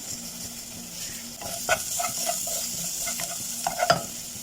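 Food stirred in a sizzling frying pan with cumin, pepper and salt, a steady hiss broken by several soft scraping stirs in the second half, close and alone.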